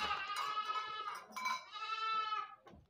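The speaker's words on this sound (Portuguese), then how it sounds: "Olha, que cabra linda." A dairy goat on a small farm herd in the Pernambuco agreste bleats loudly and close, two long wavering calls nearly filling the moment with no talk over them.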